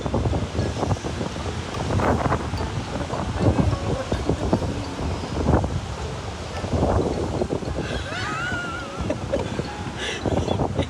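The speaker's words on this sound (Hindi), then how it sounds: "पीछे इतनी ठंडा हवा चल रही है" Strong cold wind roars steadily outdoors and buffets the microphone with a dense, gusty rush. The wind continues for the whole stretch, with brief faint squeaks near the end.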